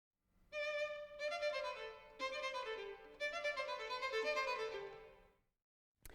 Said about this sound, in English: the second violin begins with the same subject and it sounds like this